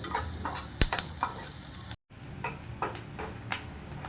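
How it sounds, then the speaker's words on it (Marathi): Onion sizzles in hot oil in a pan for chutney, a steady crackling fry with several sharp spatula clicks and scrapes, close and fairly quiet, with a brief cut partway. "इथं आपल्याला कांदा जास्त ब्राऊन होऊन द्यायचा नाही आहे, तर जेवढा पाहिजे तेवढा परतला आहे आपल्याला कांदा"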